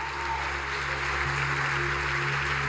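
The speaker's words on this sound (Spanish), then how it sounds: "Aplaudile a tu sueño que se va a concretar." A church congregation applauds together at a Spanish-language worship service, a steady, dense wash of clapping that fills the whole moment with a constant low hum underneath.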